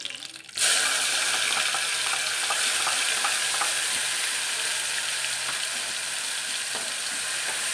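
Mustard seeds, cumin and a few curry leaves hit hot oil for tempering, bursting into a loud steady sizzle with scattered crackles and pops that continue without talk.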